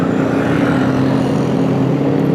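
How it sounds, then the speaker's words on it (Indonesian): Wind roars steadily past during a motorcycle ride at Lake Lindu, a constant loud rush mixed with a low engine hum and no pauses or speech. "Dan ini angin ya, ada angin ya."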